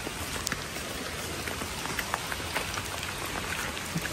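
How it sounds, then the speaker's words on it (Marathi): Heavy rain pouring steadily in coastal Konkan at Tivari port, a dense continuous hiss with scattered sharper drops striking nearby surfaces, nobody talking. "भरपूर पाऊस आहे, भरपूर."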